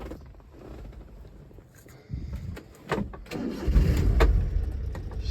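A Honda Acty is cranked and its small engine starts up, moving from quiet clicks and cranking into a close, rumbling idle that grows louder and steadies, with no talking.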